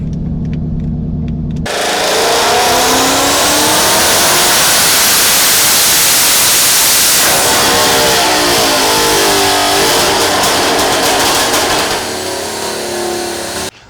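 2023 Mustang GT V8 on a dyno, loud engine revving that climbs steadily in pitch through the gears and holds near the raised rev limiter before easing off, close and continuous with no talk.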